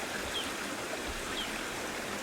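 A river flowing at a village crossing in Yangshuo, China, a steady, soft wash of moving water that stays even throughout, fairly faint and heard alone with no voices.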